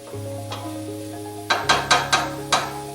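Onions soften in a pan on the stove, a gentle sizzle under background music, then a quick run of four or five loud scraping stirs close by.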